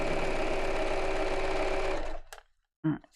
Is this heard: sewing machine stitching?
yes